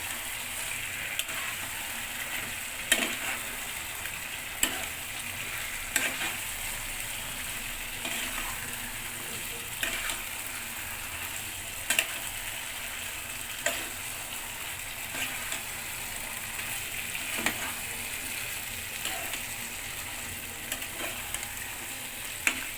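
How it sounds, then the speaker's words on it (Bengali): Chicken is stirred into gravy in a pan, giving a steady sizzle with occasional scraping knocks of the spoon, close and continuous, with no voices. "চিকেন দিয়ে ভালো করে নাড়াচাড়া করে চিকেনের সাথে গ্রেভিটা মিশিয়ে দিয়েছি।"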